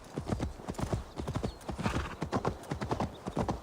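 Galloping horse hooves in the Assassin's Creed Valhalla video game pound in a fast, steady clip-clop rhythm, close and continuous throughout.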